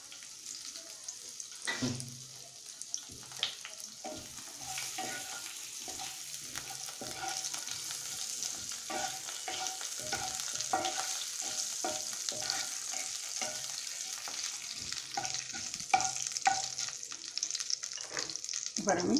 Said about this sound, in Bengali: তেলটা একটু গরম হলে আমি এতে তেজপাতা, শুকনো লঙ্কা এবং জিরে ফোড়ন দিয়ে দেবো।